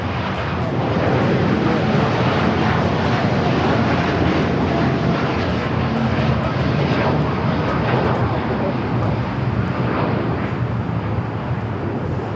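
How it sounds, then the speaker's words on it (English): Loud, sustained jet roar of a KLM Boeing 787-10 Dreamliner airliner at a busy airport, filling the whole stretch with a steady, powerful rumble and hiss, a voice faintly present beneath it. "Another 787-10 Dreamliner, flight 603."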